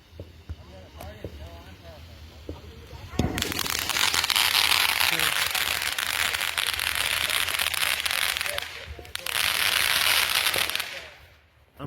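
An Independence Day fireworks show erupts after a sharp bang into a long, dense wash of crackling bursts, loud and continuous, pausing briefly before another crackling barrage, with a voice heard faintly early on.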